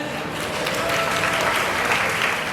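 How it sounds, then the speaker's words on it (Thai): Loud, steady applause from an audience at a Thai film cast launch event, continuous and dense throughout as the cast is welcomed. "ขอเสียงปรบมือต้อนรับทุกท่านด้วยนะฮะ"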